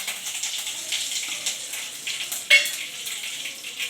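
Mustard seeds, curry leaves and onion frying in oil for tomato chutney, a soft continuous crackling sizzle with one sharper pop midway, close and moderately loud.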